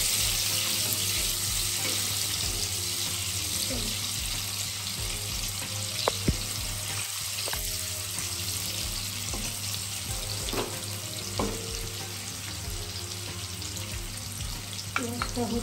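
Onions fry in hot oil for a Bengali crab curry, with a steady, loud sizzle that holds throughout and occasional clinks and scrapes of stirring close by.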